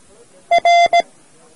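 A Morse code letter R beeped as a clear tone: short, long, short, over a quiet background.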